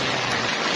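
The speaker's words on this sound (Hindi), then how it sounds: "अब ये देखिए सड़क के ऊपर बादल जमा हुए हैं और बारिश भी हो रही है।" Steady hiss of rain falling on a mountain road at Nathia Gali, dense and even throughout with no voices.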